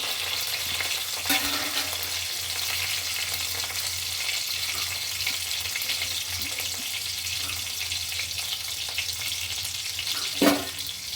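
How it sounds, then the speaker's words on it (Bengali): Garlic frying golden in oil with dried red chillies, ahead of adding mustard greens, a constant close crackling sizzle with a couple of brief stirring knocks, no talking. "রসুনটা ভাজা ভাজা লাল হলে আমি সর্ষে শাকটা দিয়ে দিই"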